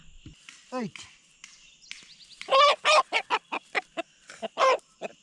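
A rooster clucks in a quick series of loud, sharp bursts, close up, after a few softer calls and rising squawks at the start.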